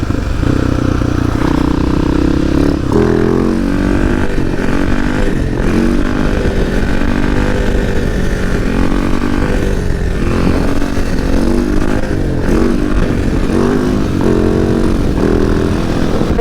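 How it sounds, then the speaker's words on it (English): A motorcycle engine revs loud and close while the rider pulls a short wheelie, a steady roaring drone that swells and dips across the whole stretch with no talking. "I want to do a small wheelie here. Alright, I'll do one real quick."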